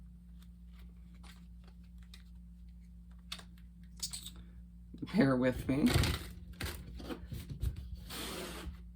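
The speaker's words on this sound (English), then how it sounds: "let's do some shuffling so we can pull some cards from the Gilded Tarot Royale deck" Gilded Tarot Royale tarot cards shuffled by hand, soft rubbing and riffling that swells into a louder flurry in the middle and keeps going more quietly, with a voice speaking briefly over it.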